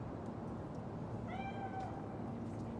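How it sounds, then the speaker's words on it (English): A single cat meow rises out of a steady, loud ambient rumble in the game Cyberpunk 2077. It is one drawn-out, tonal cry of about half a second, moderately near, and no one talks over it. "Chill, just a cat."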